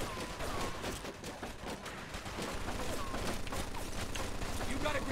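Video game machine gun fire in a firefight, a dense, continuous rattle of shots that fills the scene and never lets up, mixed with loud battle noise.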